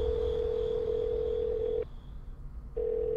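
An incoming phone call rings in the Zap Zap Zombie Catz video game as a steady electronic tone that cuts out briefly and resumes, over a low background hum, with no talk.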